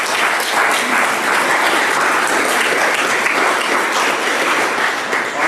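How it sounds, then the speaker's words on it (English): Sustained, dense applause from an audience at a 70th anniversary celebration, loud and steady throughout without a pause. "Give yourselves a round of applause."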